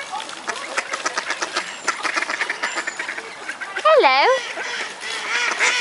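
Ducks quack repeatedly as they approach, the calls growing louder and nearer toward the end, while a person talks throughout.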